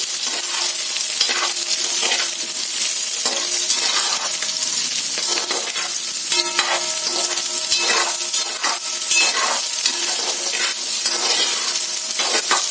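Radish pieces fry in oil in a pan, a steady loud sizzle with repeated scraping and clinking of a spoon stirring against the metal, close and continuous with no talking.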